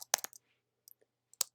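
A few quick keystrokes click on a computer keyboard, close and crisp, in two short bursts separated by near silence.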